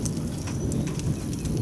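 Steady heavy rain hisses and patters during a thunderstorm at a campground, heard from under a covered metal shelter, with a low continuous rumble beneath the dense, unbroken downpour.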